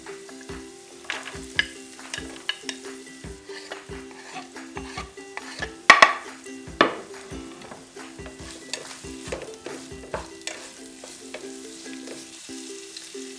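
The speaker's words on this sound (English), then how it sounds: "We're going to come in with our harder vegetables now, the carrot and the broccoli." Carrot and broccoli fry in a pot with a steady sizzle while a utensil stirs them, scraping and knocking against the metal in irregular strokes, with one louder clank midway.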